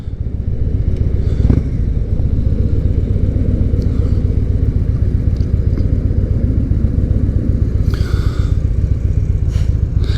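A Victory Gunner motorcycle cruises along an open road, its engine a loud, steady low rumble with rhythmic firing pulses, joined briefly by wind and passing-traffic swishes near the end; no one speaks.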